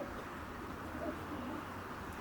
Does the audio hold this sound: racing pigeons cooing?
yes